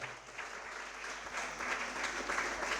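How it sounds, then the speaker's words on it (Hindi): A gathered audience at a Jain religious talk claps in honour of two people, dense continuous clapping from a crowd, steady and moderately distant, with no speech over it. "सम्मान में ताली बजाओ जरा।"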